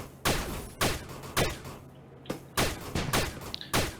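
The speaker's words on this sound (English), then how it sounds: "This is a new pistol. It's a Vex plasma pistol." A Vex plasma pistol fires in the Starbound video game, six or seven sharp zapping shots at a fairly regular pace, each with a falling tail, alone and fairly close.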